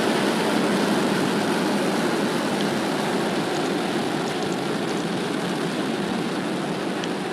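A rocket's main engines give a steady, broadband roar from inside the first stage during ascent, holding a constant level with no other sound.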